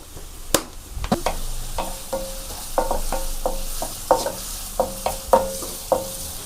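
Onion frying with salt in a pan, stirred with a spoon that gives repeated short scraping strokes over a steady sizzle, close and moderately loud with no talking.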